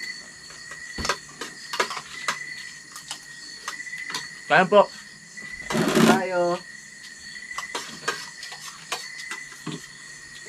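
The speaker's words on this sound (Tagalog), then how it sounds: "Kumakain habang kasabay ang mga kuliglig at kulisap." Crickets and other night insects keep up a steady, high, continuous chirping drone through an evening meal, while people talk and dishes clatter over it.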